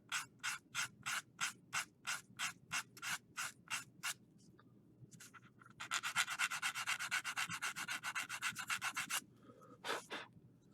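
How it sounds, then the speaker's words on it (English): Close sandpaper rubbing on the ends of small wooden wing struts for a model plane: about a dozen short, even strokes, a brief pause, then a quicker run of rapid back-and-forth sanding, ending with one stroke. "when I sand these ends a little bit, I'm really only going to sand a very small amount"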